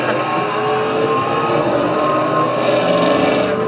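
A drag race car at a muscle car show launches down the track, its engine a loud continuous roaring snarl with harsh overtones that holds steady and slightly swells throughout.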